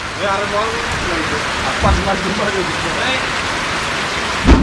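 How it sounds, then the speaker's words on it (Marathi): Heavy rain pours down steadily near the Konkan coast at Guhagar, a constant loud hiss with occasional closer splashes, while people talk over it. "पाऊस एकदम जोरदार लागलाय."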